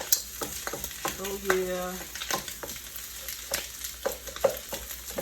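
Curry fried rice with vegetables fries in a pan, a constant sizzle with repeated spatula scrapes and taps, and a brief spoken exclamation partway through.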